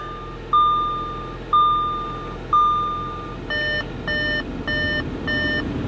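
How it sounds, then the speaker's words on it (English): Chevy Tahoe door-open warning chime: three evenly spaced, fading electronic dings, then a faster series of short, higher pulsing beeps, all over a steady idling engine hum inside the cabin. "other than this annoying beeping, which maybe close the door."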